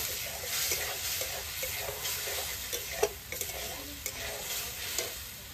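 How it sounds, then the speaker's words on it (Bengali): Spice paste frying in a pan with a splash of water, a steady soft sizzle beneath occasional scraping stirs and light utensil knocks against the pan, close and fairly quiet. "আমাদের একটু সামান্য জল দিয়ে দেবো, দিয়ে মশলাটাকে একটু ভালো করে ভেজে নেব।"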